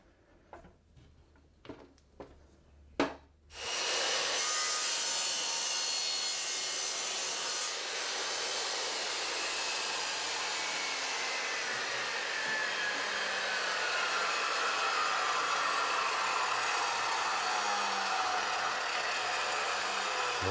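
A Triton Workcentre saw cuts kerfs into wood: a few light knocks and taps, then the blade bites in with a loud, steady whine and rasp that holds, close and alone, until the end.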